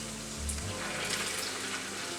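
Carrots tipped into meat frying for Bukharian Jewish plov (oshi sirkan), giving a steady, close, moderately loud sizzle and hiss over a low background hum, with no talking.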